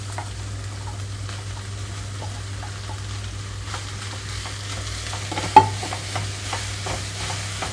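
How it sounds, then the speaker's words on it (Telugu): Cooked rice and vegetables stir-fried on high flame for vegetable fried rice, a soft continuous sizzle under scattered scraping and tapping of a spatula against the pan, with one sharper clack near the end. "హై ఫ్లేమ్లో నుంచి వెజిటబుల్స్ అన్నీ కలిసేలాగా చూసుకుంటున్నాను"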